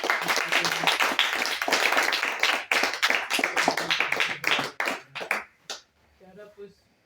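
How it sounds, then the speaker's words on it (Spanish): Audience applause at a women's recital, dense clapping that thins out and fades toward the end, with talking mixed in. "un aplauso a todos"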